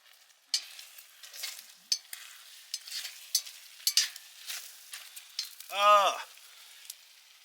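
Chicken fries in hot oil in a pan in a woodland camp tent, giving a crackling sizzle with sharp pops and spits. A louder stirring scrape comes near the end.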